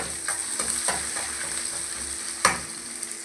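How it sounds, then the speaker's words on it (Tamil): A large onion, two green chilies and mustard seeds sauté in a pan: a constant sizzle under repeated scraping stirs, then a louder clatter of the utensil near the end, nearby and with no talking. "பெரிய வெங்காயம் ஒன்று பச்சை மிளகா ரெண்டு எல்லாம் கட் பண்ணி வச்சுருக்கிறத கடுகு ஒன்று போட்டு நல்லா வதக்கிக்கலாம்"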